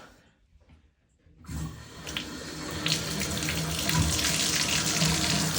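Water suddenly gushes on as a Delta shower valve is opened after a quiet moment, a steady hissing spray running close by, growing slightly fuller as it flows.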